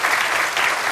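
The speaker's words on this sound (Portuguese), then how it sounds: "Um grande aplauso." A studio audience on a Portuguese television talk programme breaks into loud, dense applause, an even roar of many hands clapping at once with no talk over it.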